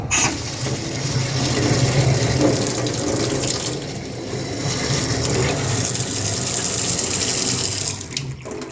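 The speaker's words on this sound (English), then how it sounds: "The water is on now into the faucet." A newly installed BWE kitchen faucet runs steadily, water gushing into a sink with a constant splashing hiss that shifts slightly in force, no voices.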